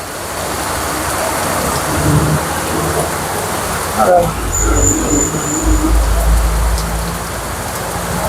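Steady rain pours down at night with a deep roll of thunder midway, a loud continuous hiss close by, while people talk over it.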